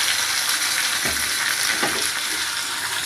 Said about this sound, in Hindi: राई हमारी चटक रही है।